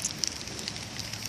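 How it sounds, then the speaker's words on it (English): Steady rain falling outdoors, a continuous soft hiss with scattered close drop ticks throughout, no voices. "it's raining"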